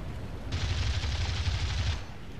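Folgore aircraft cannon fire in an air combat game, a single sustained burst of rapid shots lasting about a second and a half, steady and moderately loud over constant engine drone.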